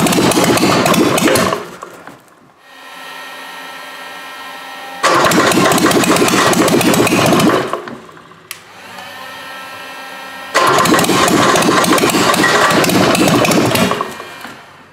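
A pulling tractor engine set on a workshop floor starts and runs in loud roaring bursts, each lasting a few seconds, with quieter idling gaps between them and no one talking.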